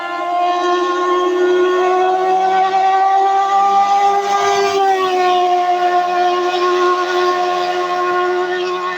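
A Yamaha Mio i125 scooter engine runs after its broken camshaft and chain guide were repaired. It gives a loud, steady whining drone whose pitch rises slightly and then settles, with no voices over it.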